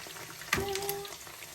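Tofu fries in a small pan, with a soft sizzle and a brief clatter as a piece shifts, close and quiet, with no voices.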